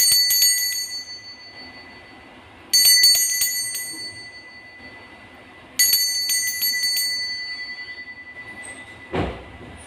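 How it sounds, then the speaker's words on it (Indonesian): A bright metallic bell rings three times at even intervals, each strike ringing out and fading, followed by a soft thump. "kita akan memulai saja dengan ditandai lonceng berbunyi."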